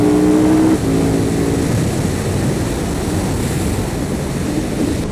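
A KTM Super Duke GT motorcycle engine droning loudly and steadily after a downshift, a close sustained roar with a brief tonal whine at the start and strong wind rush throughout.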